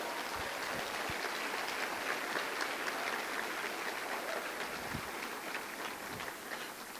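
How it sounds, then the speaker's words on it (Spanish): A church congregation applauds together, a broad steady wash of clapping heard from some distance that holds evenly for several seconds without any voices on top. "Dale un aplauso al Señor"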